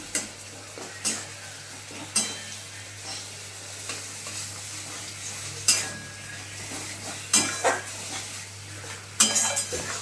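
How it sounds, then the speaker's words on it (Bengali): Pointed gourd cooking with a cashew, raisin, poppy seed and green chilli paste, stirred in a pan: periodic sharp scrapes and clinks of a spoon against metal over a soft sizzle, no voices. "এবার আমি কাজু কিশমিশ পোস্ত আর কাঁচা লঙ্কা এই পেস্টটা করেছিলাম ওটা দিয়ে দিলাম"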